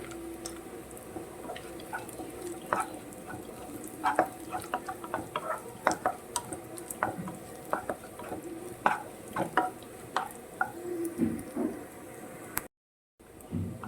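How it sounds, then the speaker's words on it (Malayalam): A spoon scrapes and stirs nuts in a hot pan for rava upma, with light sizzling and scattered clicks and taps throughout, close and fairly quiet, with a brief dropout near the end. "നമുക്ക് കുറച്ച് നട്ടും കൂടെ ചേർക്കുകയാണേ"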